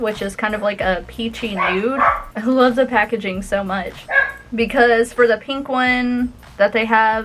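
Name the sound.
dog barking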